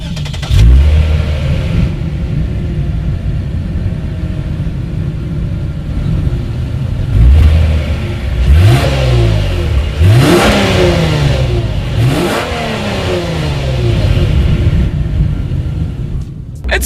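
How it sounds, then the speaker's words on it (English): A 2019 Lexus IS 300 F Sport's dual exhaust at close range, idling low then revved several times in sharp bursts that rise and fall back, loud and alone. "As always, here is that exhaust clip."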